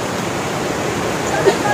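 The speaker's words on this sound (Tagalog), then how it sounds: "daloy ng tubig, guys, sa ibaba." Water at Abaga Falls rushes steadily below a steep hiking trail, a continuous broadband roar heard from a distance with no pause.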